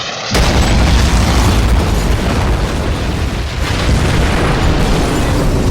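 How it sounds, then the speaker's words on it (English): A sudden massive sonic boom from a jet breaking the sound barrier erupts into a sustained, roaring rumble that rolls on loudly for several seconds with no voices. "The sonic boom terrified the camels into stampeding."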